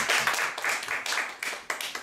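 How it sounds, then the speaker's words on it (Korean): A short burst of clapping from a church gathering after a group recitation and prayer, several pairs of hands in a quick uneven rhythm, close and fairly loud. "하나님께 박수."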